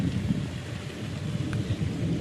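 Thunder rumbling before rain at an outdoor house-building site: a continuous low, distant roll that carries on throughout, with a faint wash of wind or rain over it and no voices.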